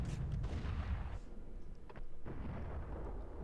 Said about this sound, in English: that gun, like, fell apart when he shot it